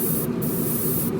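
In a spray booth, blue paint hisses from a sprayer onto model car mirrors, a steady close-up airy rush over a low booth hum with two short breaks in the spray and no speech.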